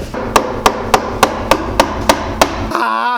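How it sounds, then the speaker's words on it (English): A chisel is struck in an even rhythm, about eight sharp, loud knocks close by, chopping out a bow shelf in black locust wood, then a brief scraping rattle at the end. "And then use my chisel to chop it out from the top of the fade."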